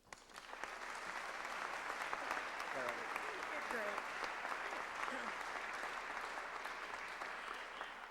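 A lecture audience breaks into sustained, dense applause welcoming university president Karen A. Holbrook at a 2003 Ohio lecture series, steady and loud throughout with faint voices mixed into the clapping.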